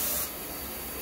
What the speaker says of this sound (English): There's going to be compressed air applied at the time when they're at the top,